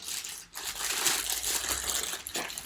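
A pink plastic bag handled and crinkled close up, in a steady rustling, crackling run of about three seconds with one brief pause near the start; no talking.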